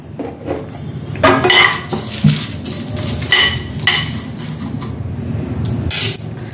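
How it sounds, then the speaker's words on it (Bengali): Whole cumin, coriander, fennel, cinnamon, chilli and bay leaf tossed in a pan for a fish-head chorchori, heard as steady clattering of a spoon on metal with clinks and scrapes throughout, close and fairly loud. "এই মশলাটা আগে আমি ভেজে নেব।"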